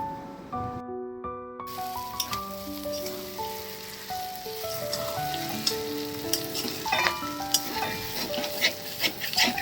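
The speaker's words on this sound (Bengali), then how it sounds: "আবারও খুব ভালো করে নেড়ে চেড়ে ঘিটা পুরো তরকারির মধ্যে মিশিয়ে নিচ্ছি" Cabbage curry with ghee sizzles steadily in a pan while being stirred, a continuous close crackle with scraping strokes and occasional sharper pops; no one speaks.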